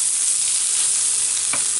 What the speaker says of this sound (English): Return beef to the pan.